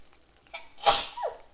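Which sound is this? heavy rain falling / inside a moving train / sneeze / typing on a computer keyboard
sneeze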